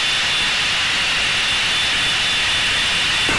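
A Blue Angels jet roars steadily in flight, a loud, dense, unbroken engine rush from inside the cockpit with no talk.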